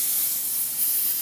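A thin, steady stream of compressed air hisses as it blows over a 3D printed model coated with non-stick cooking spray, close and constant for just over a second.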